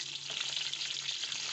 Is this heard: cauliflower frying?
yes